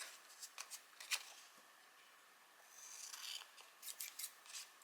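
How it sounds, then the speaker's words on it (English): Scissors trim the edge of a paper page for a handmade nature-walk concertina book, giving a few close, quiet snips and rasping slides spread across a soft room hiss, with no talk. "just trim it a little bit just to straighten it up"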